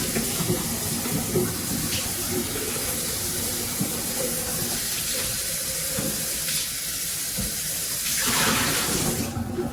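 Running tap water rinses leftover flour out of a plastic pop bottle at a sink, a steady broadband splashing and gurgling that stays close and continuous, swelling louder near the end.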